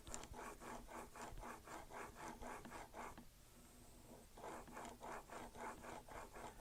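Leather-working swivel knife blade rubbed on a finishing stone, a quiet close rhythmic scraping with about a dozen even strokes, a brief pause, then the strokes resume.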